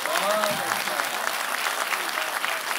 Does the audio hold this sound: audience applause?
yes